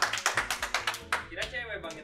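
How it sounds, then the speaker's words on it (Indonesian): A small group claps in a quick even rhythm, about ten close, crisp claps, then the beat breaks up as people talk and laugh over scattered final claps. "Beri tepuk tangan untuk Bli Andre"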